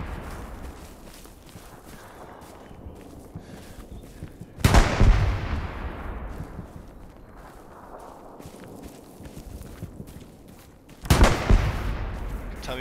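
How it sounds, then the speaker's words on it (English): A 40 mm gun and cannon fire in a video game combat scene: two loud, sharp blasts several seconds apart, each with a long decaying rumble, over a low background of ambient game noise. "That's a 40 mil gun, dude."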